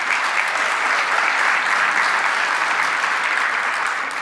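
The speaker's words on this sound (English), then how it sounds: "Please give Assistant Secretary Bell a big round of applause." A convening audience gives a big round of applause for an assistant secretary, a close, steady, dense wash of clapping that holds evenly for a few seconds and eases slightly at the end.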